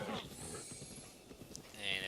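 Horse hooves clip-clop in Zelda: Breath of the Wild, a faint, rhythmic run of hoofbeats beneath a person talking over the game.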